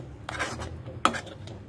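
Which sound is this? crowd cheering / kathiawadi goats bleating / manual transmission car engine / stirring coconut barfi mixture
stirring coconut barfi mixture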